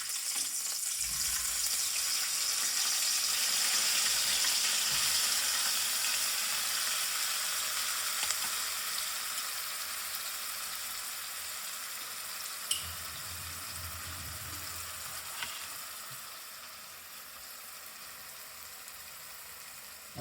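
Green chili and dry garlic paste frying in hot oil for a green chili chutney, a steady broadband sizzle that is loud at first and eases slightly, with a couple of brief clicks of stirring.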